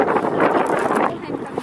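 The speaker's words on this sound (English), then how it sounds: "It's a bit windy." Gusty wind buffets the microphone outdoors, a loud, dense rumbling roar that eases slightly near the end.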